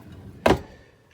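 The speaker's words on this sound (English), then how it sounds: "Silverware drawer." A silverware drawer in the kitchen of a 1997 Leisure Travel Freedom Wide Body RV slides open in a single short, close rattling clack, then quiet.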